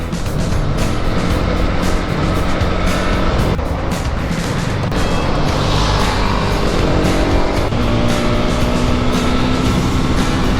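A group of five motorcycles including Bajaj Pulsar NS 400, NS 200 and NS 160 models and a Honda CB300R riding a road in the morning, a loud continuous engine drone with wind rush throughout, no voices.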